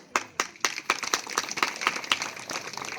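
Audience clapping at a Birsa Munda Jayanti gathering, a loose crowd of hands building from scattered single claps into steady, fairly close applause lasting a few seconds.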